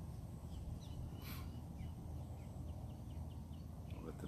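Birds call faintly and intermittently at sunrise outdoors, near lions, with short chirps scattered over a dense, steady background hiss.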